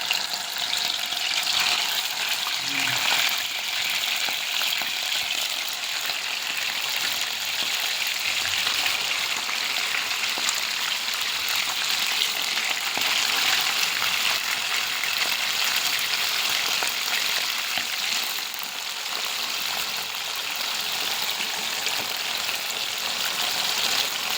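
Steady loud sizzling and crackling of pork frying in hot oil in a pan fills the whole stretch, with no voices.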